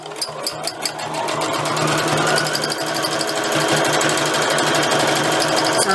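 A sewing machine does free machine stitching in roundy patterns. A few quick ticks lead into a loud, sustained, rapid needle chatter that carries on steadily to the end, with no voices.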